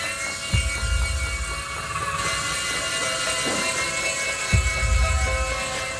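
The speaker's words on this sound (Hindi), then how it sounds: "ये हेलीकॉप्टर गार्डन में चलाने के लिए है, घर पर नहीं।" A toy helicopter flies indoors with a steady high whirring rotor whine and buzzing motor tone, loud and continuous, with a couple of low thumps as it moves about.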